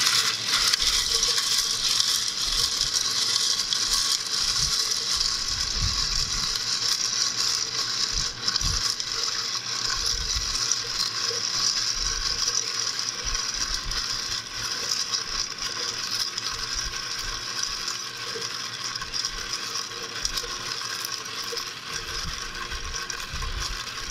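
Gin, vermouth and ice stirred in a metal mixing glass for a martini, with constant bright clinking and rattling of ice against metal, close and steady throughout.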